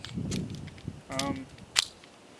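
A Taurus Spectrum pistol fires factory ammunition at 7 yards on a range, giving two or three sharp, fairly faint reports spaced about a second apart, with some background noise.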